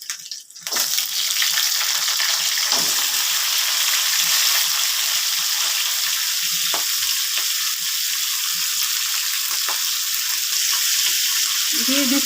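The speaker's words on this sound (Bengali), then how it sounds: "এবার আমি পেঁয়াজ কলিগুলো দিয়ে দেব।" Spring onions hit a hot oiled pan where tangra fish has just been fried, setting off a loud, steady hiss of sizzling that carries on close up with a few faint stirring clinks.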